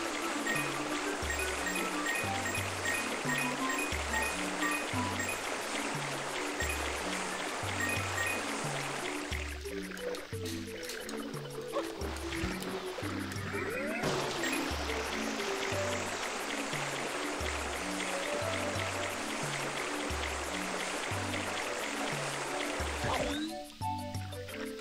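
FLUDD's Turbo Nozzle sprays water in Super Mario Sunshine's Noki Bay, a steady rushing hiss over a looping, rhythmic game music track, briefly dropping away midway before surging back.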